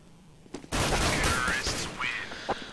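Rapid bursts of gunfire ring out in Counter-Strike on the de_mirage map during a LAN playoff match, a dense loud volley lasting a couple of seconds with a lone shot after, mixed with game effects and crowd noise.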